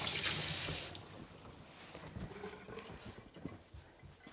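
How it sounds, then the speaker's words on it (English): A sink tap runs loudly at first as hands are washed, then cuts off, leaving softer scattered splashes, drips and handling noises. "let me just wash my hands"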